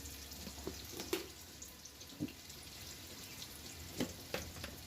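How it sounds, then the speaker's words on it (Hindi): Garlic and chili fry in a pan with a soft, steady sizzle broken by a few scattered sharp pops and crackles, quiet and close, with no talking. "ये लहसुन, मिर्च पहले अच्छे से भूनना है"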